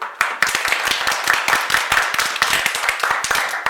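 Audience at an evening show clapping loudly, a dense run of sharp, closely spaced hand claps that continues throughout with no talking.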